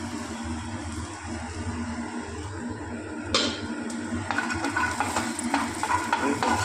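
Cinnamon, cloves, ginger and garlic fry in oil while being stirred: a continuous close sizzle with scraping spoon-on-pan sounds, growing busier and crackling toward the end.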